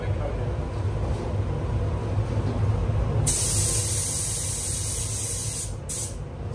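A paint spray gun applies a coat to a Colt car in a workshop, a bright steady hiss that starts partway through over a low rumbling background and briefly drops out before resuming.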